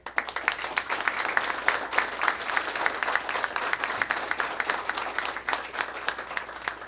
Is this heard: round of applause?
yes